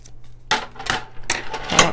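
Several crisp snipping bursts from scissors trimming patterned paper for a card, close by, in a rough rhythm of four cuts with short pauses between them.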